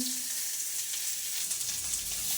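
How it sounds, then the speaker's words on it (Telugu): Onions fry in a pan for a tindora and mint chutney, making a continuous soft sizzle and crackle with small pops scattered throughout. "ఇప్పుడు ఈ ఆనియన్స్ ఇంకా వేగలేదు కాబట్టి కొద్దిసేపు వేయిద్దాము"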